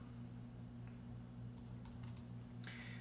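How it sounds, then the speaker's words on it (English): Typing on a computer keyboard comes through as faint, sparse key clicks over a low steady hum, with a short cluster of taps near the end. "let's type hello here"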